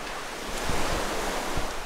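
Ocean waves surge and crash against a naturally formed sea cave on the coast of Ciletuh, a continuous roaring wash with a few heavier thumps of surf, no voices.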